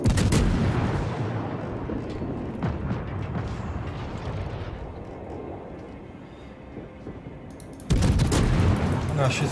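Naval gunfire in World of Warships, with booming warship salvos from a battleship engagement and a steady rumble of sea and engine noise between them. A loud burst hits near the end.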